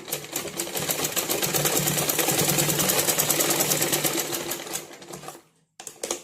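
A sewing machine stitches a cross piece onto a blouse neck, its needle hammering in a fast steady rhythm for about five seconds before pausing briefly and restarting.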